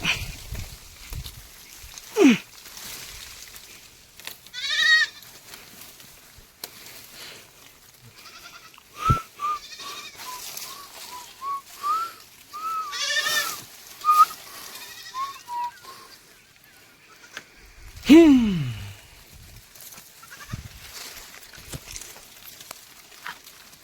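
Goats bleat on a rural farm where they are herded: several separate cries, some near and sharp, others fainter, come at irregular gaps over quiet background noise.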